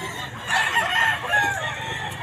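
Rooster of the bulik fowl type crowing at a busy outdoor pet market, one drawn-out strained call rising and falling over crowd murmur and background chatter.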